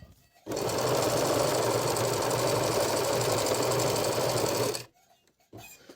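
A Singer 822 sewing machine runs in one continuous fast stitching burst of about four seconds, loud and close, then stops, followed by a brief faint voice.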